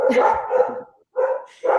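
Dogs bark repeatedly at moderate distance, the yapping bursts running together, then pausing briefly before resuming in short spurts.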